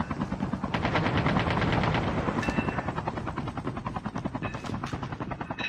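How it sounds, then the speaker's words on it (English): A helicopter in a battle royale video game drones loudly and close with fast, steady rotor chopping that runs throughout. A brief rattle of rapid gunfire seems to break in partway through. There is no talking. "and then Blazed and Christmas, the whole team is on the helicopter"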